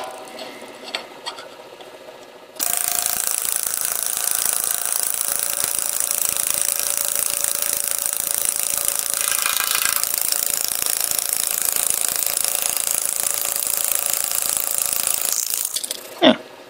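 A homemade pneumatic metal engraver cuts into aluminum plate, probably 6061 alloy, with a loud, steady, rapid buzzing hammer sound that starts abruptly after a quiet moment and runs continuously for about fourteen seconds before stopping.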